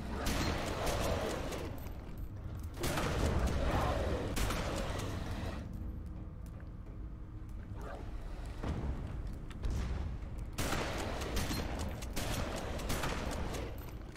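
Shotgun fire in the sci-fi shooter Alien Breed Impact, heard as loud, booming repeated blasts in a corridor, mixed with dense game effects and sound-heavy ambience throughout.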